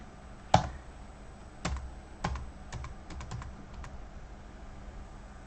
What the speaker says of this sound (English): So I hit on enter and I can start typing.